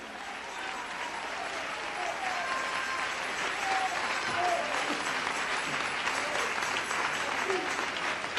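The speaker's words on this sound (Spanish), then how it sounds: "Dele ese aplauso al Cristo de la gloria" A church congregation gives sustained applause, a thick even roar of many hands that swells slightly midway, with faint voices mixed in beneath the clapping.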